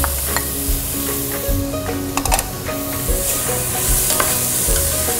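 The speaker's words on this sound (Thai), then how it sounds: "เมื่อพอหอมสุกแล้วนะคะเราจะเติมเห็ดฟางที่เราหั่นไว้ค่ะ" Sliced straw mushrooms sizzle in a pan after the onions, with a loud continuous crackling fry and repeated scraping stirs of a utensil, close up with no talking.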